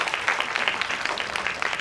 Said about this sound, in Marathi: जोरदार जोरदार क्लॅप करा, जोरदार.